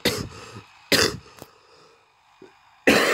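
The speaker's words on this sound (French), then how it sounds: "Et vous allez surtout m'entendre beaucoup tousser." Several harsh coughs in separate bursts, with quieter breathing and a small throat sound between them, close to the listener.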